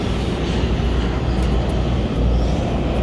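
A Washington WMATA metro train pulls into the station, a loud continuous rumble and roar of wheels and motors filling the space, steady and close with no voices.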